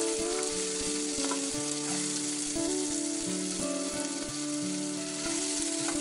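Onions fry in oil for chicken dum biryani, sounding as a steady hiss and sizzle under a loud melodic background tune that dominates the sound, with no speech.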